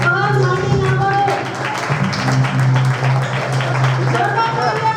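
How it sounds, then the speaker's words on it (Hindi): Children's prize distribution at Nanded Methodist Church: a crowd claps steadily for a prize winner. The dense, loud applause runs the full length under a voice and a tonal hum. "जोरदार तालियां प्लीज बच्चों को उत्साहित कीजिए"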